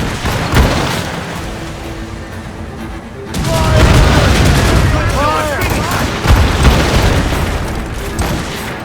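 Naval cannon and gunfire during a ship battle in Assassin's Creed Rogue, heavy booms and cracks repeating over a roaring background, with shouted voices mixed in.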